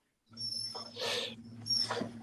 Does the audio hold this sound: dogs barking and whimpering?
yes